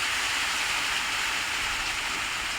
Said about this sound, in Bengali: বাইরে অনেক জোরে বৃষ্টি হচ্ছে, দেখেন কি বৃষ্টি।